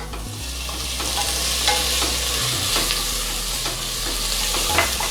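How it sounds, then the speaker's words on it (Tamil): Onions and tomatoes sautéing in a pan for a hotel-style vegetable kurma, with a steady sizzle and repeated stirring scrapes running throughout, close and fairly loud, no talking. "நல்லா தக்காளி வெங்காயம் வதங்குற அளவுக்கு வதக்கி விட்டுக்கலாம்"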